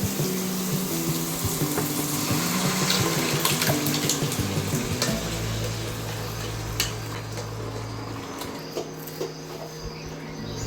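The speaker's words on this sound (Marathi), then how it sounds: "आता याच्यात डाळ टाकून घ्यायची." Cooked dal poured into a pan of fried spices and turmeric gives a wet, gushing, splashing rush with clinks of a pot, steady and fairly loud throughout.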